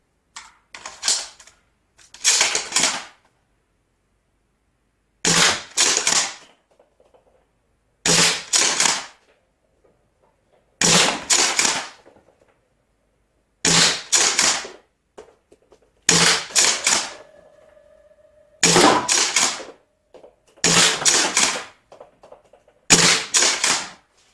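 A ZWQ S400 Zebra toy blaster with a custom 1.6 spring being fired and reloaded: about ten loud, close bursts of sharp clattering mechanical clacks, each separated by a second or two of near silence.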